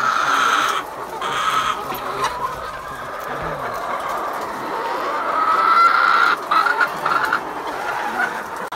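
Layer hens in a poultry farm cluck continuously as a dense, close flock, with overlapping calls and occasional louder squawks rising above the steady chatter.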